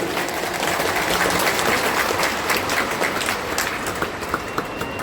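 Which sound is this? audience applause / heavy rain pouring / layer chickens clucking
audience applause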